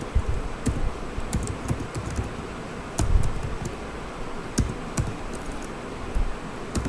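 Fast, irregular key clicks come from a computer keyboard as HTML code is typed, with sharper taps now and then over low background hiss, close and steady with no talking.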